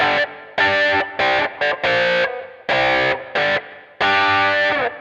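Epiphone Les Paul Classic electric guitar with a mahogany body and humbucker pickups, played through heavy distortion: loud, saturated chords in short choppy bursts separated by gaps, with longer ringing chords at the end.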